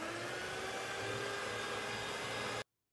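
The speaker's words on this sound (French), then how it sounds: "là, go, avec le batteur, un petit peu que ça blanchisse" An electric hand mixer whirs steadily while beating coconut rocher batter, a constant close high-pitched motor hum that cuts off abruptly near the end.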